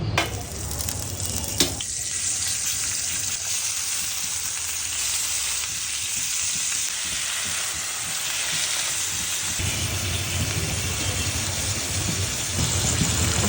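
Skewered chicken jafrani kebabs fry slowly in a pan, giving a loud, continuous, even sizzle that lasts throughout, with a brief clatter near the start and no talking.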